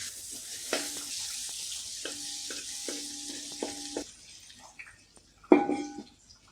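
Pork fries with salt and green chillies in a pan for a Kerala-style curry, a soft, steady sizzle under occasional clinks and stirring scrapes, ending with a sharper clatter.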